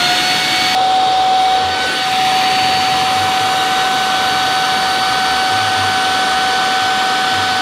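A Jowsua LD-627 cyclone vacuum cleaner runs continuously with a loud, steady whine and airy rush, close and alone with no voices.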